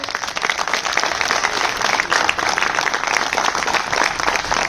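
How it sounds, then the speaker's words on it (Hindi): A large gathering breaks into loud, sustained clapping to honour those attending, a thick continuous wash of applause close up with no voices on top. "आपका सम्मान में एक जोरदार तालियां"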